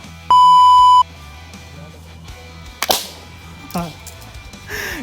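A homemade plastic-bottle weapon fires: a long steady electronic beep comes first, then a sharp crack near three seconds and a smaller pop just before four, with a hiss of spray at the end.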